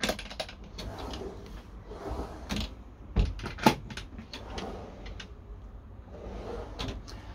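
Drawers inside a Frankia Titan luxury motorhome slide and bump shut, giving a few sharp knocks and clunks with soft rustling between them, close by and with no one talking.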